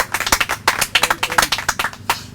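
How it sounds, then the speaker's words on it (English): A small outdoor crowd at a ribbon cutting for new pickleball courts at Deacons Walk Park claps for the project manager, with close, uneven hand claps in a short burst and no talking. "give Mike a round of applause"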